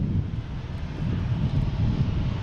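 A plane taking off from runway 22 at Boston Logan International Airport, heard as a steady, low engine rumble at a distance, continuous and even with no voices.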